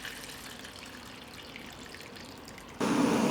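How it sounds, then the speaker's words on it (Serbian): Hot water pouring into a cooking pot with a cloth on its bottom and glass jars inside, a soft steady trickle that turns into a louder, fuller gush near the end. "U šerpu ću sipati vruću vodu"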